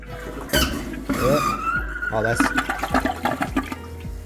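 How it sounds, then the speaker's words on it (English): A toilet's first flush after the water line was reprimed: a loud rushing gush with squealing, sputtering bursts as air escapes the line, while a man makes short remarks over it. "Here goes the first flush."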